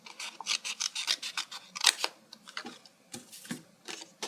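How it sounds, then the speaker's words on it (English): Scissors snip through paper while a card maker cuts up to a traced line, a steady run of crisp, close snipping and rustling strokes with brief pauses between clusters. "cut up to the line, and trace around with the scissors"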